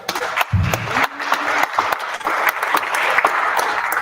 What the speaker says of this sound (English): Let's give her a big old applause.